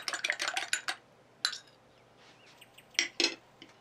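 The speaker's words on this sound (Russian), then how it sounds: "я взбиваю одно яйцо до соединения белка и желтка" A whisk or fork clinks quickly against a bowl while beating a single egg, a fast run of bright metallic taps, then a pause and two shorter clattering bursts, close and fairly quiet.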